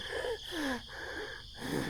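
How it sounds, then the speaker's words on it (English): Heavy panting performed by a voice: rapid, wheezy in-and-out breaths follow one another closely for about two seconds, loud and near, with no words. "panting heavily."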